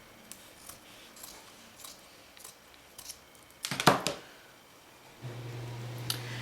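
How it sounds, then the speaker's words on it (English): Sharp fabric scissors slice through a piece of Kunin felt, giving a crisp, close burst of snipping around the middle amid soft handling noises, followed by a low steady hum. "I'm going to take a pair of really sharp fabric scissors, and I'm going to open up this outside piece of felt"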